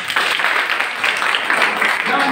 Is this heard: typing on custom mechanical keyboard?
no